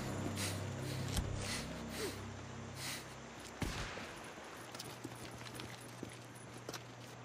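Gunfire in the video game Days Gone: a few sharp shots and scattered cracks over a low droning game ambience, with brief rustles and footsteps and no one talking.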